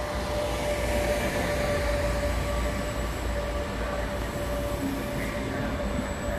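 A regional train to Livorno pulls into Firenze Campo di Marte station, its steady rumble and rolling rail noise filling the platform, with a thin high tone running through the sound.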